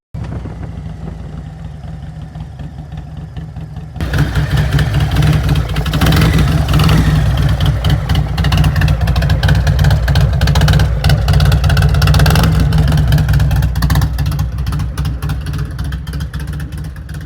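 A Harley-Davidson bagger motorcycle engine idles with a deep, steady low rumble, then grows much louder and fuller at about four seconds as it revs up and holds a strong, throaty drone, easing slightly near the end.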